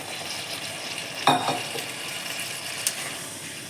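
Water goes into a pan of cooking matar paneer, setting off a low steady sizzle with one sharp clatter and splash near the start and a small tick later, close up and without speech.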